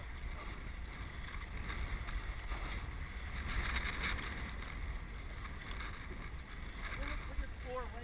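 A boat paddled through floodwater in the Bay Head area the day after Hurricane Sandy: continuous splashing and rushing water mixed with wind buffeting the microphone, with voices calling out briefly near the end.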